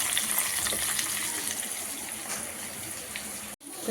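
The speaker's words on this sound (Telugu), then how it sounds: "ఇప్పుడు ఇలా కిస్మిస్ ఫ్రై అవుతున్నప్పుడు కాజు ఒక 2 టేబుల్ స్పూన్ తీసుకొని బాగా ఫ్రై చేసేసుకోవాలండి" Cashews and raisins fry in ghee for a rice and moong dal payasam, making a continuous close, bubbling sizzle that cuts off abruptly near the end and then resumes.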